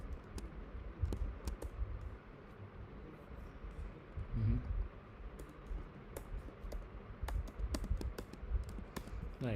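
Close, quick typing on a computer keyboard while code is entered, irregular bursts of key clicks with sharper taps, alone with no talk over a soft background hiss.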